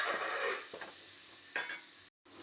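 Onions sauté with garlic, curry leaves and asafoetida in a pan for tomato thokku, a close, continuous sizzle with a few stirring scrapes and a brief silent gap near the end.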